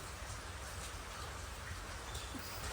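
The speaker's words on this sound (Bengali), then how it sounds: "বৃষ্টি" Rain pours down in a dense, even hiss, with no voices.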